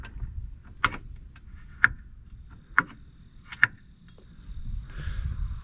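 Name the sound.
UTV winch clutch disengaging with a pop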